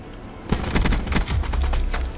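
Rapid gunfire in Black Ops 4, a string of loud sharp shots in quick succession over about two seconds, close and punchy.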